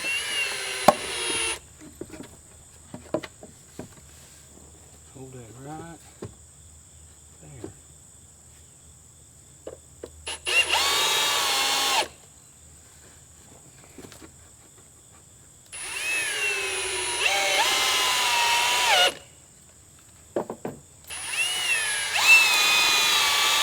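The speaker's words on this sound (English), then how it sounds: "on the other side we're just getting it level and putting screws to it" A power drill drives screws into a wooden stair stringer in several bursts of high whining motor with a steady pitch, each lasting one to four seconds, separated by quieter gaps with small knocks and handling noises.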